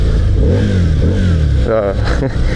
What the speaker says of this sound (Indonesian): coba nih gue geber dikit ya